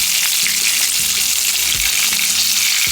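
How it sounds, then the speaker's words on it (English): Seasoned, flour-coated kingfish steaks frying in hot oil, a dense steady crackling sizzle close up and continuous, with no talking. "Take your seasoned kingfish steaks, roll it out in your seasoned flour mixture, and fry it."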